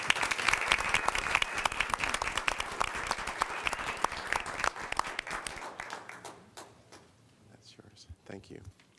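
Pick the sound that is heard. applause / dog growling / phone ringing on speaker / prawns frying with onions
applause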